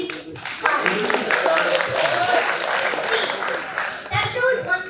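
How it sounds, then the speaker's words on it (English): An audience breaks into applause, a sustained wash of clapping and crowd noise lasting several seconds, with voices mixed in. "So for that, please clap."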